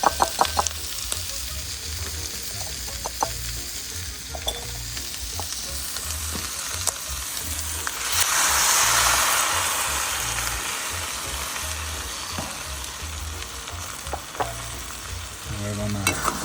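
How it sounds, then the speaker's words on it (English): Cecina with added eggs frying in a pan for aporreadillo, Michoacán style, a continuous sizzle with scattered clicks and scraping taps, swelling louder for a few seconds midway as the eggs hit the hot pan. "Okay, so the cecina is cooking."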